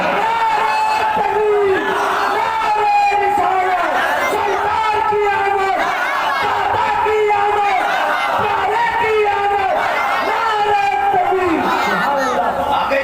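A large crowd chants religious slogans at a procession, a dense, loud wall of massed voices rising and falling in repeated rhythmic cries throughout.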